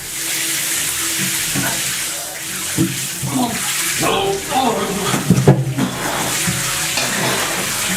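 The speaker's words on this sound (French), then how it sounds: "il faut que je traverse cette cascade" Rushing waterfall water as a person crosses it outdoors, a loud steady splashing roar with bursts of sloshing and movement, and a voice breaking in briefly.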